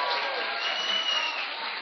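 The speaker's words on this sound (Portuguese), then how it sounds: "a salva de palmas para a Marta" Brief burst of applause from a classroom group, steady and moderately loud for under two seconds.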